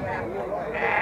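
Sheep bleat at an open-air sheep market, the calls continuous and fairly close amid a busy crowd, with people talking throughout.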